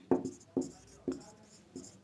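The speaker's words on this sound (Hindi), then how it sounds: "यहाँ लिखेंगे" Chalk strokes on a classroom board during a physics lecture on gravitation, coming as four short scratchy bursts spaced about half a second apart, close and clear with no talk over them.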